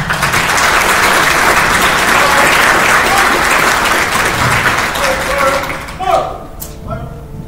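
Graduation ceremony crowd for a field artillery battalion bursts into loud, dense applause that fills the space, then fades out with a few thumps and scattered voices near the end.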